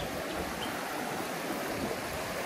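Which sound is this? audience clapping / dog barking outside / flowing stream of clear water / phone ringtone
flowing stream of clear water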